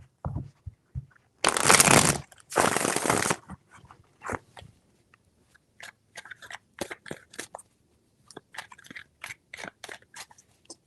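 Tarot cards are shuffled in two long riffling bursts, followed by a scatter of lighter taps and flicks as the deck is handled, close and alone.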